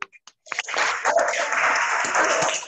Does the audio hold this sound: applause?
yes